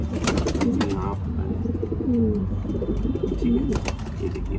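Pigeons coo in low, repeated rolling calls, close and fairly loud, with someone talking over them throughout.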